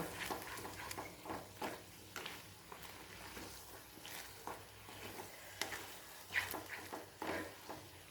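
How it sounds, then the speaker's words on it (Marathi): A sweet coconut barfi mixture, its sugar melted to liquid, is stirred in circles in a pan over a full gas flame. The soft scraping and gentle bubbling stay faint and steady, with small repeated strokes. "असं गोल पद्धतीने हलवायचं आहे"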